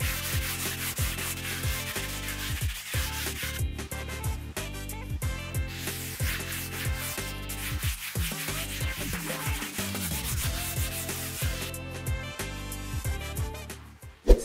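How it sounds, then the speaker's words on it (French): Hand sanding scrapes across a painted ceiling in quick repeated back-and-forth strokes, a close, rhythmic rasping that runs almost without pause. "Je ponce, je nettoie, parce que sinon, on est là pour une semaine."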